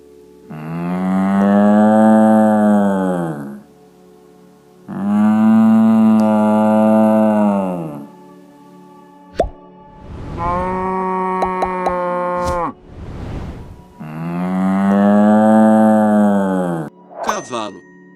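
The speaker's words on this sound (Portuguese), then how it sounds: "Cow." A cow moos repeatedly and loudly up close, with several long, drawn-out calls separated by short pauses, plus a brief clang in between.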